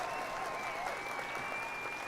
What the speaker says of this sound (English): You get a round of applause for that.